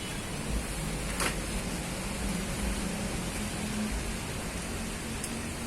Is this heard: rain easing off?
yes